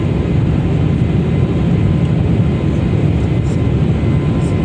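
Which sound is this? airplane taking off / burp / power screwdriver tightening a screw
airplane taking off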